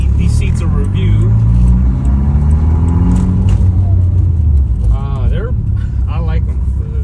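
Volkswagen MK4 GTI driving with its engine humming low and steady from inside the cabin, pitch rising and easing as it moves, with a person talking over the road rumble.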